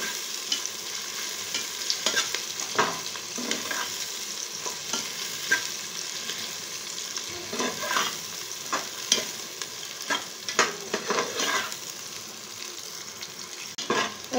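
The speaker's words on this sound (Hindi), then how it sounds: "मैंने इसमें ऐड किए हैं 2 अदद प्याज। प्याज जो है इनका कलर गोल्डन होने तक हम इन्हें फ्राई करेंगे।" Two onions frying in hot oil in a pan for a pumpkin and mutton curry, a steady crackling sizzle with frequent stirring scrapes and clatters, close and continuous, no voices.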